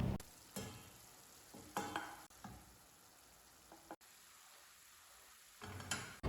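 Spices tempering for a tadka crackle and sizzle in a hot pan, with bursts of louder hissing and a few clinks of a utensil against metal.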